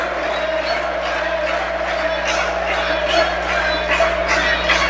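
A wrestling crowd at a Southern States Wrestling event roars and cheers steadily throughout, a dense continuous wall of voices with rhythmic surges like clapping or chanting.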